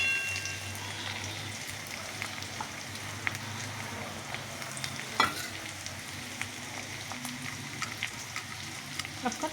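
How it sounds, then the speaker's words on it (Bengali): Eggs stir and fry in a pan for fried rice, a soft continuous sizzle with occasional scraping clicks from the spatula, close but fairly quiet, with no voices. "এবার আমি ডিমটা নাড়াচ্ছি। ডিমটা তো ভাজতে হবে।"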